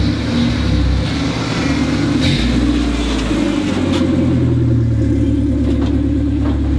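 An idling engine rumbles steadily and loudly throughout, the low drone shifting in pitch once partway through, with no voices over it; the car starts up only intermittently.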